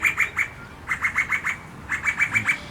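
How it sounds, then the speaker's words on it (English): Garden birds call in quick repeated bursts of three to five squawky chirps, fairly close and loud against a soft background hiss. "And I welcome birds to my garden."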